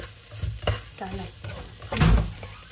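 Oil sizzles in a pan while pork intestines fry, with a utensil stirring and scraping against the pan and a louder burst of sizzle near the end.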